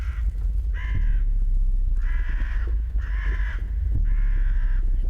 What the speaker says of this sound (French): Le corbeau il s'énerve et tout.